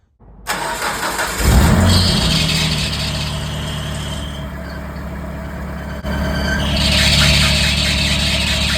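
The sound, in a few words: car engine running with new tensioner pulley and bearing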